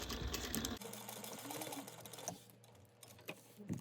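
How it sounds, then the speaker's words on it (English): A sewing machine stitches a backpack seam in a fast, rattling run, stops briefly, then starts again with short bursts. It is quiet and close. "you're just going to sew that down at 1/8 of an inch"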